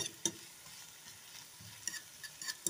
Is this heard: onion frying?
yes